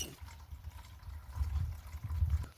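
Fresh water fills a container for chickens and ducks, a low, gurgling, uneven flow heard close up and fairly quiet.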